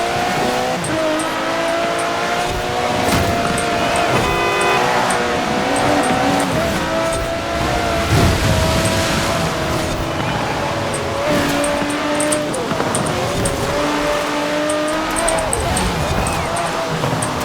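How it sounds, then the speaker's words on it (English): A Lamborghini Urus racing in Forza Horizon 4, engines roaring loudly and steadily with shifting pitch, tire squeals and scraping contact as cars jostle on the road, with talk over the top. "Lamborghini Urus pushing me off the road"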